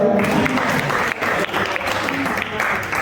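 An audience at a sangeet night in Maharashtra claps loudly and continuously, a dense, close wash of applause lasting the whole moment with only brief dips.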